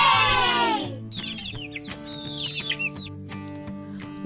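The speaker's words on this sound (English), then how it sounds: "It's baby chicks." Baby chicks peep in a quick burst of high, thin chirps that rise and fall for about two seconds, sitting over a steady musical backdrop with no talking.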